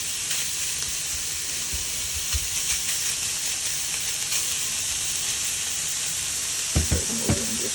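Pork chorizo sizzles and crackles steadily in a hot pan, with a constant hiss and a few louder knocks and scrapes near the end.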